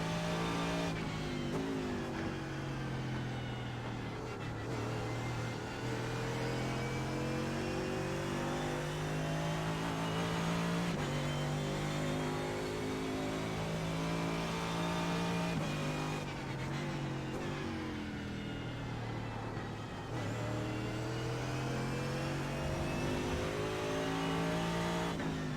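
Audi race car engine in the iRacing sim, running loud and steady throughout with repeated revving climbs and gear-shift dips as it accelerates, no talking over it.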